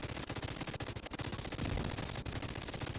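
Rapid gunfire from a shooter video game, dense and continuous bursts of shots packed close together at steady loudness, with no talking.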